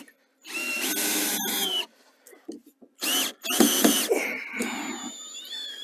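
A cordless drill whirs in several short bursts as it drives stainless Phillips screws into a Scott Aquasweep pond aerator near water, with brief pauses and small clicks between runs.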